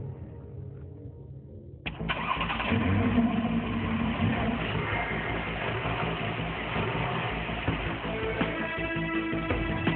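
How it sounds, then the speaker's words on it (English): A Porsche 911 sports car engine fires up after a quiet stretch, then settles into a loud, steady running rumble close by. "There is one noise you do want to hear in a sports car though, and that's the engine."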